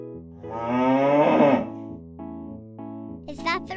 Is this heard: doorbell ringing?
no